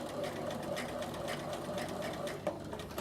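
Bernina sewing machine stitching slowly over existing stitching on fabric for a notebook cover, a continuous close, rhythmic mechanical hum with rapid needle pulses throughout.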